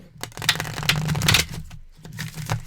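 Tarot cards being shuffled during a live love reading, a close run of crisp riffling and slapping bursts with brief pauses and no talking.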